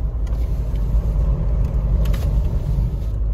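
A brand-new Mahindra Thar Roxx SUV drives along a road, giving a steady, heavy low rumble of engine and tyre noise as heard from inside the cabin, continuous with no talk.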